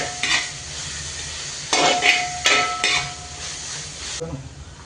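Noodles being stirred with tomato chilli sauce in a pan, metal utensil scraping and clinking in several bursts over a soft sizzle, close and fairly loud.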